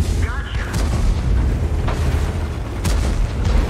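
An IS-3 tank catching fire and blowing up in a tank video game, heard as a deep continuous rumbling boom with low-end energy throughout and a few sharper cracks, under a commentator's voice.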